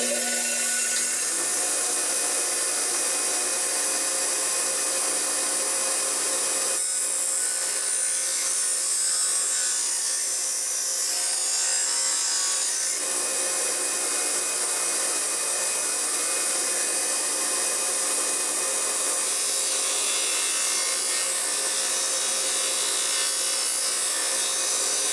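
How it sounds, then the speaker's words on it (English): A bench grinding wheel re-grinding a plane blade in a workshop gives a steady, loud whirring hiss, with the rasping grind of steel against the wheel rising and easing as the blade is worked. "I'll fire up the grinder and I'll show you the basic process of"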